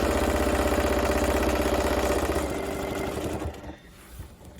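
Sewing machine stitching binding onto a quilt, a steady fast mechanical whir with rapid needle pulses, close and loud, slowing and stopping near the end with no talk.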